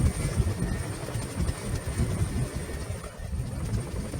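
CH-47 Chinook helicopter running on the ground after startup, a steady loud rotor and engine roar with a constant high whine on top.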